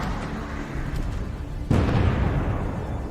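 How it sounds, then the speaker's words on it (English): A Javelin missile striking a Russian tank: muffled rumble with faint pops, then a sudden heavy blast that stays loud as a dense, roaring burst, distant and without voices. "Ukrainian forces, from an ambush, fire another Javelin shot"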